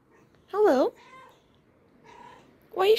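A cat meows loudly at a doorway at night in Santiago, Chile, with two sharp, close meows at the start and end and softer, quieter calls between them.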